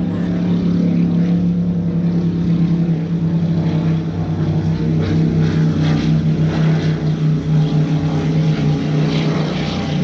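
A loud motorboat passes on a lake near a resort marina, its engine drone steady and strong for the full ten seconds with no talk over it.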